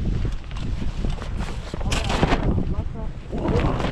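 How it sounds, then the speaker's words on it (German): Gusty wind buffets the microphone in steady rumbling blasts on a surf-fishing beach, with a person talking over the blustery noise. "Ist doch gut windig hier"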